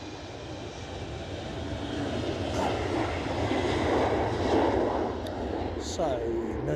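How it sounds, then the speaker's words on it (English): An Embraer 190 jet takes off from Edinburgh Airport for London City in gusty 40 mph winds, its engine roar swelling and then easing at moderate distance, with a person speaking briefly near the end. "London City, an Embraer 190 standard."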